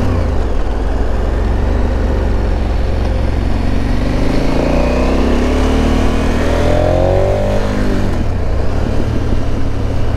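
KTM Super Adventure 1290 motorcycle on the road, engine revving and dropping with a burst of exhaust pops and bangs near the end, loud and close over steady wind rush.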